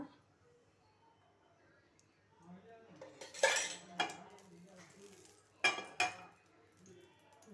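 Capsicum fries in a pan while a metal spoon stirs and scrapes against it in a few sharp clinks and bursts, over a faint sizzle with quiet talk in the background.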